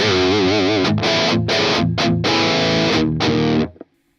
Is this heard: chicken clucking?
no